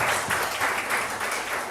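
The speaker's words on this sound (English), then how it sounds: "Please, a round of applause for this" Applause from an audience at a live-streamed African democracy event, a steady wash of clapping of moderate loudness with no voices over it.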